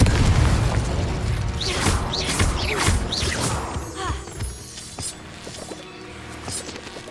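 Confringo blasting spells explode in rapid succession in Hogwarts Legacy, several loud booms and bursts with sparkling magical whooshes crowding the first few seconds, then fainter scattered blasts and effects trailing off.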